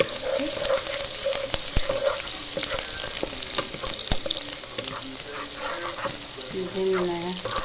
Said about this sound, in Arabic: نحط البصله بتاعتنا اهي